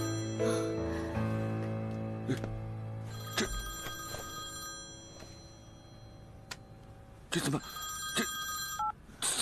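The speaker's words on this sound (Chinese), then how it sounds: "这是君君的手机吗？" A mobile phone rings indoors in a repeating tonal electronic pattern, sounding moderately loud and close, with a few sharp clicks and knocks in between and no speech over it.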